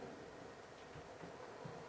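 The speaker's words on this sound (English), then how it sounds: "standing trackside as the train goes by" A steady, continuous rumble of a train rolling past nearby in the Open Rails train simulator, with low rattling and a dense, even roar throughout.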